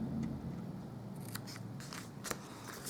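Scissors snip through paper while trimming thin strips from a craft box, several crisp close cuts spaced irregularly over a low background hum.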